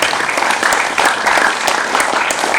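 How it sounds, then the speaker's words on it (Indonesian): An audience at a Hindu dharma gathering gives a dense, loud round of applause that carries on steadily with no break and no talk over it. "sekali lagi kita beri aplaus untuk beliau"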